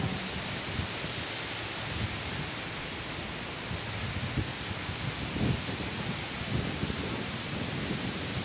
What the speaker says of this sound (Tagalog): yung mga kawayan malakas talaga yung hangin sa taas